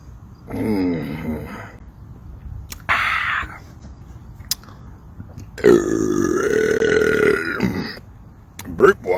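Long, loud, croaky belches after drinking Mountain Dew Flamin' Hot. There are about four separate burps of varying length, close up, with brief gaps between them.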